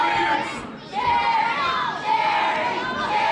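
A wrestling crowd at an indoor pro wrestling show cheers and shouts loudly and steadily, with rising whoops and chants swelling in waves for the wrestler Cherry Dahl.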